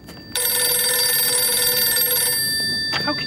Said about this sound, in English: What am I supposed to do with a ringing phone?